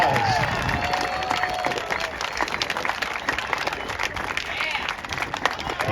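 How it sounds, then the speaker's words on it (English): A large outdoor crowd at the 2022 Bluebonnet Airshow applauds as parachuters land at show center, giving sustained, dense clapping that swells and fades slightly over several seconds. "Let's give them a huge round of applause."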